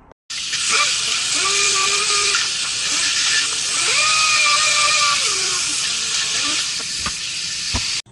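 A power tool grinds down cured resin tweeter mounts for a car audio build in a workshop. The high, loud whine rises and falls in pitch as the load changes, running steadily for about eight seconds before cutting off.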